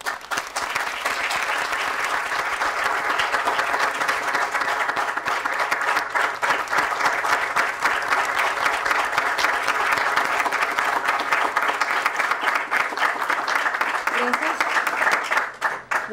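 A large audience applauds a speaker at a podium, a loud continuous wash of clapping lasting well over ten seconds and fading out at the end.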